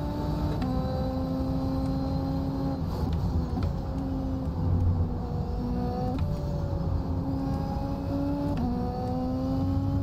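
A Super Formula race car in iRacing at Twin Ring Motegi screams at high revs, the engine pitch climbing steadily between quick upshifts, loud and continuous from onboard.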